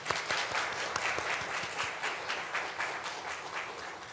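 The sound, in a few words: graduates applauding themselves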